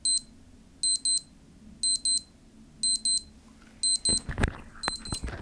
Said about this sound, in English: The alarm itself is quite loud.